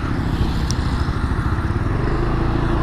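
A Piaggio Medley S 150 ABS scooter idles close by with a smooth, steady low engine hum and a little mechanical clatter, no one speaking.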